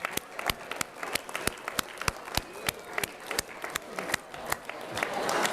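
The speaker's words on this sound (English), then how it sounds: "give yourselves a big round of applause" Applause from an audience in a lecture hall during an organic chemistry class, a steady wash of many hands clapping with sharp individual claps standing out, growing slightly louder toward the end.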